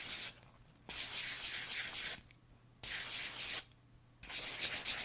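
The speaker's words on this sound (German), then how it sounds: "könnt ihr anfangen zu schleifen." Sandpaper works by hand across 3D-printed Easter eggs in steady back-and-forth strokes, each a hissy scratching burst lasting about a second with short pauses between, close and moderately quiet.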